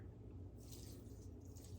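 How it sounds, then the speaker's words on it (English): Wine poured into breadcrumb stuffing for a Thanksgiving dish, a soft, steady liquid trickle and faint wet splashing heard close up for under two seconds over a low background hum. "I'm just going to start with like a half a cup of wine and pour that in there."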